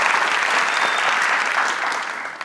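Loud, sustained applause from a studio audience at a family game show, a dense wash of clapping that holds steady before tapering off slightly at the end.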